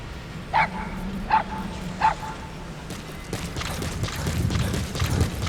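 A dog in Metal Gear Solid V gives three short, evenly spaced barks or yips, then whines and shuffles faintly over a low game ambience.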